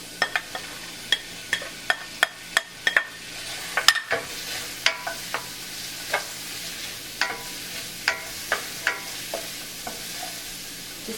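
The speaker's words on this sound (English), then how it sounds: "I will start off by putting in the garlic and the onions in." Garlic and onions frying in a pan at the start of a beef stew, a constant gentle sizzle under sharp, regular clacks of a utensil stirring against the pan, close and moderately loud.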